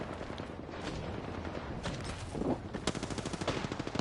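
Gunfire rattles in Apex Legends, with a dense exchange of shots that turns into quicker, punchier rhythmic bursts toward the end.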